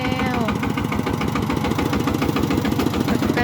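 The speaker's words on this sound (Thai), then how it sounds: "เดี๋ยวรถไถมาแล้ว" A tractor engine chugs close and loud with a fast, steady knocking rhythm, while a voice talks faintly underneath.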